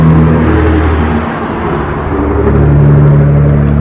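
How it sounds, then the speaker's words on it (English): A car drives past a home garden on a hot Oklahoma summer day with a loud, close rumbling whoosh that swells, dips slightly, then builds again as it goes by. "Wait till that car gets by."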